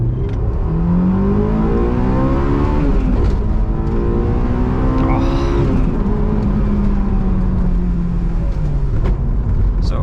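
A Honda S2000 engine revs hard toward 9,000 rpm, pitch climbing in repeated sweeps as VTEC engages, loud and close, a continuous high-revving wail from inside the moving car.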